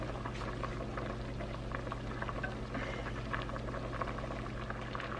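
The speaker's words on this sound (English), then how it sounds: "I have the soup back up to a simmer, and I'm going to start adding the noodles" A pot of homemade chicken soup simmers with soft, steady bubbling and gentle liquid patter as noodles go in, quiet and continuous, with no talking.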